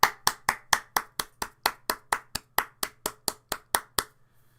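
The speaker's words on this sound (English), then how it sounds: "Your prize is a round of applause." A single pair of hands claps in a steady, evenly spaced rhythm, about seventeen crisp, close claps that then stop, leaving a faint low hum beneath.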